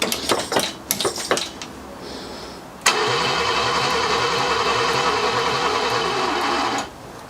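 Long-abandoned barn-find BMW engine cranking on its first start attempt in decades: a few sharp clicks and knocks, then a loud, steady mechanical whirring churn with a fast rhythmic pulse that runs about four seconds before cutting off.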